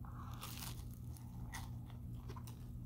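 Crisp food being crunched and chewed close up, with sharp bites and crackly chewing repeating over a steady fan hum and no talking.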